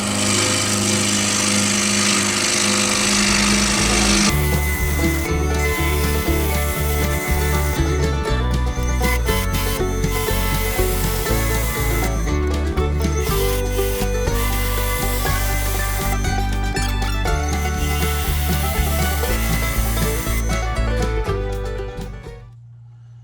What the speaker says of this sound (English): There, I got about 1530 now on the lathe speed.